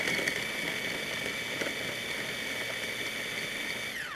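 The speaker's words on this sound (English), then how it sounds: "So you just take the whole head of cauliflower and you would put it in a food processor or in a blender." A mini food processor whirs steadily as it blitzes cauliflower into rice, a continuous high-pitched motor drone held at an even level for about four seconds before it starts to wind down at the end.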